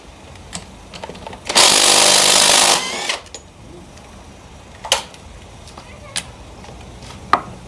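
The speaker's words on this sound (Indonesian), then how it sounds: "Nah ini kita buka dulu ya mur fully-nya menggunakan impact." An impact wrench breaks loose a stubborn alternator pulley nut, a loud buzzing burst of about a second and a half close by, followed by a few sharp metallic knocks and clinks.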